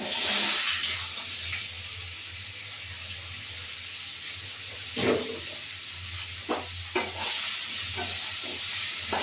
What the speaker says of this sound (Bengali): শিম আলু একটু ভাজবো